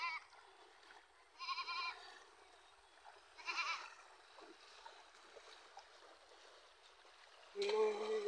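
A goat kept beside a dike bleats in three distinct wavering calls spaced a couple of seconds apart, moderately close, over quiet outdoor background with a louder bleat near the end.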